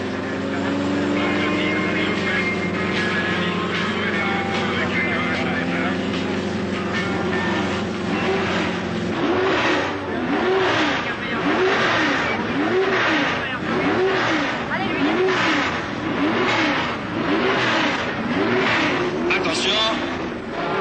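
Group 3 and 4 grand touring cars racing, production and special GT machines whose engines drone loudly and then pulse in repeated rising and falling sweeps as they pass, with a commentator speaking over them.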